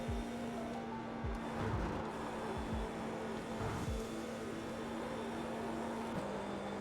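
Formula 4 single-seater race car lapping Silverstone, its engine holding a steady tone from the cockpit with faint pitch shifts and low rumbles from gear changes and kerbs, continuous and moderately quiet with no talking.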